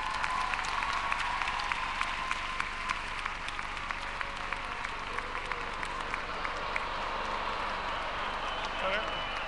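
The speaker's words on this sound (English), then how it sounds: "One more round of applause" Steady applause from a commencement audience fills a large hall for a long stretch, with sharp scattered claps over a dense wash and voices murmuring underneath.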